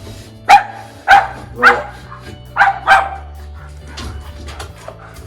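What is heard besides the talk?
dogs barking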